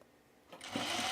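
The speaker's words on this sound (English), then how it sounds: "And then we just sew it." A sewing machine starts up on the shoulder seam of a pullover camp shirt, going from near quiet to a quick, steady whir within a second.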